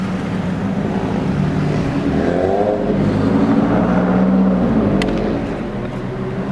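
A car drives along on the way to a car meet, its engine droning loud and close with a steady rumble that swells slightly as it pulls and turns, then eases off toward the end.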